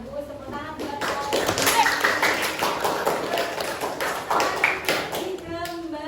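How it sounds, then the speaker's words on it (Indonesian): Classroom applause, a burst of many hands clapping together in a busy patter that carries steadily for several seconds, with children's voices mixed underneath. "tepuk tangan buat pohon"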